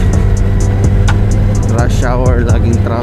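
Steady road traffic on EDSA in rush hour, a dense continuous drone of engines with occasional horn-like tones and brief clicks, with people talking over it.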